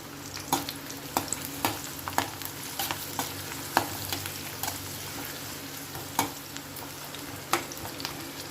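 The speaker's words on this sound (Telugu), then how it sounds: "నెక్స్ట్ ఉల్లిపాయలు వేస్తున్నాను ఉల్లిపాయలు కూడా బాగా కొంచెం యాగనిద్దాము" Chopped onions fry in a pan with cloves for mint rice, a soft continuous sizzle broken by regular scrapes and taps of a spoon stirring, close and moderately quiet, with no talking.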